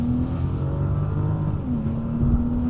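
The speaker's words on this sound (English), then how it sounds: "This is a full blast 0-60 run." A 2013 Bentley Continental GT Speed Convertible accelerates at full throttle from a standstill, its engine droning loud and steady as pitch climbs, then dips briefly at a gearshift before rising again.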